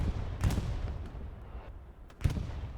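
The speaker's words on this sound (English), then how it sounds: "Long range bombing run, okay." Long-range bombing run in the World War II shooter Hell Let Loose: several heavy distant blasts land a couple of seconds apart, with rumbling bursts over a constant low background and no talk.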